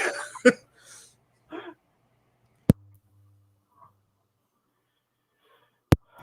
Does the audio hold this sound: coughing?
yes